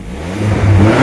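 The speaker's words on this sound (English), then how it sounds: "No, it's revving nicely." A car's Z20LET turbocharged engine revs up, running smoothly after a camshaft position sensor replacement. It is a short, loud, close rise in engine pitch.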